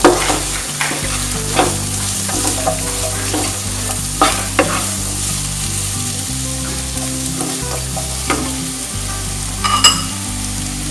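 Dried red chilies, split lengthwise, stirred and frying on high flame in a Kerala-style dragon chicken dish, a steady loud sizzle with repeated scraping clinks of a spoon against the pan, no talking.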